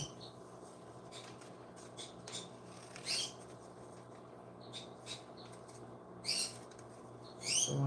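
A pet bird at home mimicking learned wild bird calls, giving a few short, bright chirps and whistles spaced out over a quiet room hum, with no talking.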